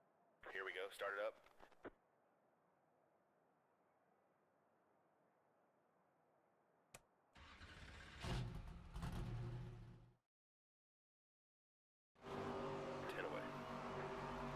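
Race car engines in the NASCAR 25 video game fire up and rev as an ARCA qualifier at Daytona begins. A short voice opens, a quiet stretch follows, then a loud engine roar, a gap, and a second strong burst.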